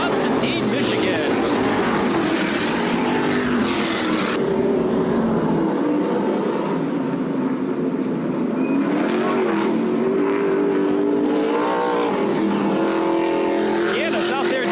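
A race car doing celebratory burnouts after a win at Kalamazoo Speedway, its engine revving loud and steady with rising and falling pitch while an announcer talks over it throughout.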